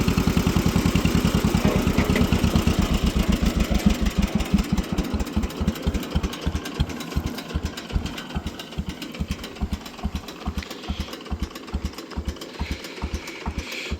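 A rare old tractor engine creeps along in first gear, its loud, steady chugging beat close by, slowing slightly as it runs, with no talk over it.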